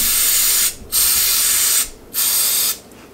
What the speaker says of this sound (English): I contact clean this off like this